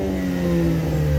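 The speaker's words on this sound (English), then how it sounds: "go ahead, take it to red line once." A 2012+ Ford Focus ST with a muffler delete exhaust revs toward redline, a loud, close engine roar that climbs steadily over about a second with no talk.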